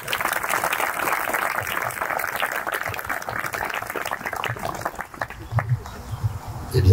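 Applause at a wedding ceremony at the Domaine des Hirondelles, a dense, steady clapping from the guests that carries on for several seconds before tapering, with a few voices and scattered noises near the end.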